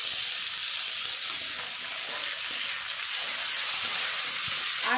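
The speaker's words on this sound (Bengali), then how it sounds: "পেঁয়াজটা ভালোভাবে ভাজা হয়ে গেছে লাল করে" Chopped tomato hitting onions fried until red in a hot pan, a loud steady hiss of sizzling oil running close and unbroken for several seconds, no talk.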